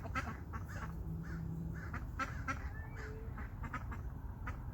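Several ducks quacking and honking in short, scattered calls over a steady outdoor hiss, nearby and moderately loud, with no talking.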